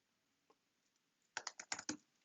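Keys on a computer keyboard are tapped out for a git command in a quiet room, a faint tap early and then a quick close run of about seven crisp keystrokes.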